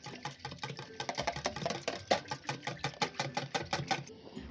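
Two eggs with almond milk are whisked rapidly in a bowl, a quick regular clicking and scraping rhythm of about four strokes per second, close but soft, with no talking.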